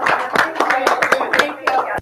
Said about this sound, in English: How about a nice round of applause for Becky and Amanda?